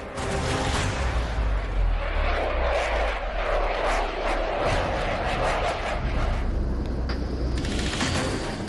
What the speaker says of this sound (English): The Rafale is a beast of a jet, powered by twin jet engines